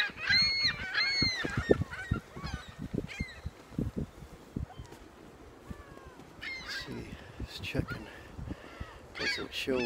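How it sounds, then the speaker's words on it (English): Seagulls calling near flooded ground in the morning after a storm, harsh loud cries at the start, then scattered fainter calls amid rustling and outdoor noise. "Seagulls aren't happy with my presence."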